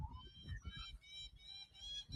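Australian magpie singing outdoors, a run of warbling, fluting bird phrases heard fairly far off and faint, with low rumbling background noise beneath and no talk.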